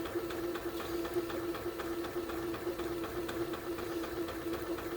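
A sewing machine set up for quilting runs slowly and steadily with a soft repetitive whir and a light rhythmic ticking, faint and continuous, with no voices.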